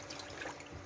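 Water poured into a bowl with salt to soak sweet potato stems for kimchi, a short, faint, steady trickle and splash with no talk.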